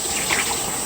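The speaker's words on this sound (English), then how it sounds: "I just turn on the hot water, and when it gets too hot to touch anymore is when I turn it off." Hot water running from a kitchen tap, a steady close hiss and splash of flowing water with a constant high-pitched tone above it, alone without talk.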